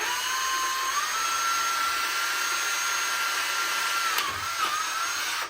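A cordless drill runs steadily in low gear with a sustained whine, its pitch stepping up briefly and dipping near the end, set close during work on a 1981 Honda Goldwing GL1100 fuel injection conversion.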